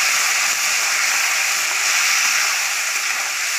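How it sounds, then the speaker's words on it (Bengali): Crabs frying in oil in a wok with a little salt and turmeric, giving a loud, continuous hissing sizzle that holds steady throughout with no talking. "এই যে কাঁকড়াগুলো দিয়ে দিচ্ছে ভাজা করার জন্য। ভেজে নেবে কড়াইয়ে"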